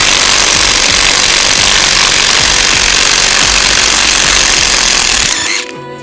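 An impact wrench loosens a bent bolt during repair of a crashed motorcycle from France, hammering loudly and steadily for about five seconds before it cuts off abruptly.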